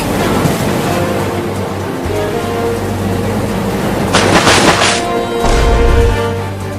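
Village floodwater churns and splashes as people swim through it. A constant rushing wash of water runs throughout, with a few louder, closer splashes near the end.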